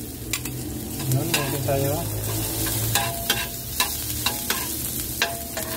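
Ginger sautéing in a little oil in a pan for Filipino chicken soup: steady sizzling frying under repeated clicks and scrapes of a stirring spoon, with a brief spoken remark over it.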